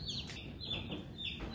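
Young chicks peep under a brooder in a series of high, thin chirps, several short calls close by over a low steady hum.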